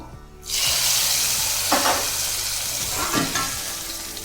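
Hot tempering of spices, garlic and curry leaves poured into ridge gourd dal, bursting into a sudden loud sizzle that stays steady while being stirred in, with a few stirring scrapes and spatters close by.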